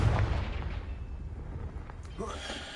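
A Confringo fire spell blast in Hogwarts Legacy on PS5 lands as a loud, booming burst at the start and decays into a rumbling tail, with a softer crackling swell near the end.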